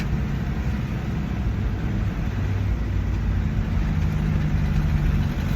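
Combat vehicle crawling slowly through mud, a steady low engine rumble and idle-like drone with faint sloshing underneath, continuous and fairly close, no talk.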